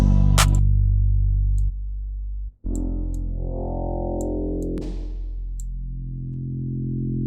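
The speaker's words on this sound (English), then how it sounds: "You will hear the reverb, but you'll just kind of hear it all the time" Distorted electronic tones ring out one after another, each trailing a long, washy reverb tail from the Baby Audio Transit plugin in Logic Pro for iPad. No voices.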